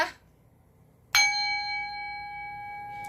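A single purification bell is struck once after near silence, a sharp metallic strike followed by a clear ringing tone with several steady overtones that sustain and slowly fade.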